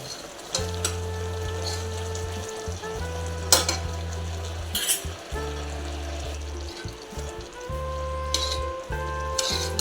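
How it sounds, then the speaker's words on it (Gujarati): Bottle gourd halwa is stirred in a pan as its sugar syrup cooks down, with a soft frying sizzle and intermittent scraping strokes over a steady low hum and no talking. "જો આ ખાંડનું પાણી બળે ત્યાં સુધી આપણે હલાવવાનું છે"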